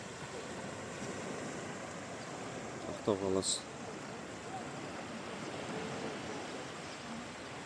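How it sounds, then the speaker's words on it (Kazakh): Waves wash steadily on the Caspian Sea shore at Aktau in the morning, a soft continuous surf noise with a person briefly speaking partway through. "Каспий теңізінің жағасы."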